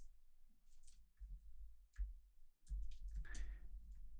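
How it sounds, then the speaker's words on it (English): Keys on a computer keyboard are tapped in light, irregular clusters in a quiet room, with faint low thumps between the strokes. "So this time we're actually typing in the first name"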